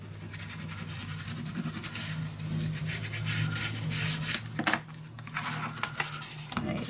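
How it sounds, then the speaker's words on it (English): A burnishing tool rubbed firmly over paper while making a mini album, producing a run of close, dry scraping strokes that rise in intensity toward the middle. "Burnish that down"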